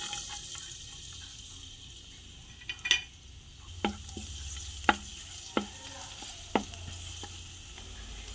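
Garlic sizzling in hot cooking oil for pancit bato, a soft, steady fry broken by several sharp clicks and clacks of a spatula against the pan, fairly quiet and without talk.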